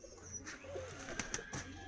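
Pigeons in a breeding loft of high-flying Andhra kabootars, a few soft coos and calls with light fluttering, fairly quiet and close, no talking.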